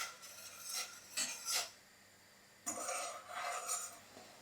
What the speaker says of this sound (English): Now you're just going to stir the soup and wait until it boils.